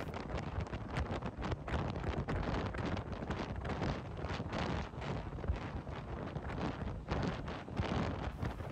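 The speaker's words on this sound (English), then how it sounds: "The wind's not quite as bad today" Wind buffeting a microphone outdoors at a river hunting camp, a steady roaring rumble with gusty surges and no pauses, loud and close.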